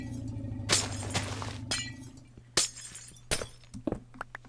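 Glass gets smashed through in a video game, with several crunchy shattering bursts in quick succession. A long break comes first and shorter, sharper cracks follow, over a steady low background hum.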